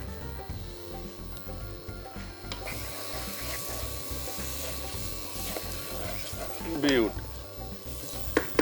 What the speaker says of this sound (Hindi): मसाले को हल्का सा भूना। अब डाल दिया टमाटर